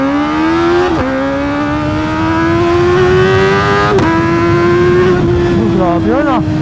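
A Kawasaki ZX4RR motorcycle with a new SC exhaust and a reflashed ECU, revving hard on a dyno: a loud, high-pitched, steadily climbing engine wail with brief blips and a final rev drop.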